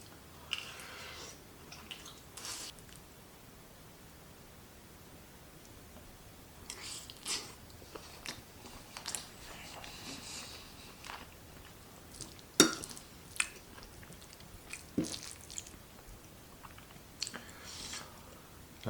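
Someone eats chicken pilaf close to the mic, with soft wet bites and chewing that come in uneven bursts between quiet stretches. A faint clink of cutlery or a dish is heard now and then, and nobody talks.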